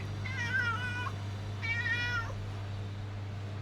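A hungry cat meows twice in two drawn-out, rising calls with a pause between them, close and clear over a steady low hum, with no one speaking.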